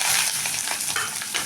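Small shallots frying in hot groundnut oil with mustard seeds, fenugreek and chana dal for a dried fish curry, giving a continuous close bright sizzle with a little scraping from stirring, no voices.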